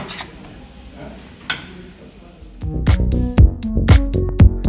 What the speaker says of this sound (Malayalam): പാസ്ലി ഇട്ടതിന് ശേഷം നന്നായിട്ട് ഇളക്കിയെടുക്കുക